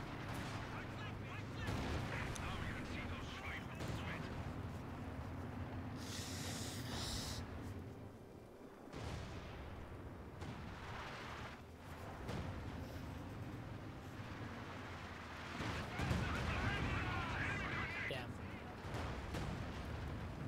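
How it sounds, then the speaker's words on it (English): Artillery fire in the real-time strategy game Company of Heroes 2, with British base guns firing counter-battery amid rumbling explosions and bursts of gunfire, under steady commentary from a caster. "The artillery from the British base is trying to, I think, counter battery."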